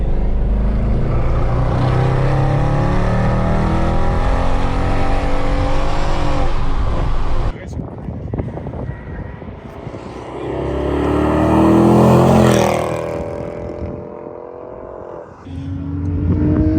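A 550 hp Mercedes C63 AMG howls loudly on a race track, its engine note holding high and hard, then dropping off and swelling again in a second drawn-out revving pull.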